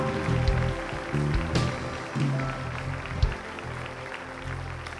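A church congregation claps during a Portuguese-language sermon, a dense, hard, rain-like patter of many hands sustained for several seconds, with a few sharper individual claps and an underlying musical hum.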